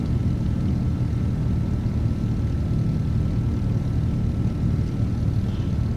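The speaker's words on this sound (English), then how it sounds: "I will swing over there and then park the plane for the subsequent" A Cirrus SR22 propeller plane taxis in the X-Plane 12 flight simulator, its engine a steady low droning rumble that holds constant without any talk.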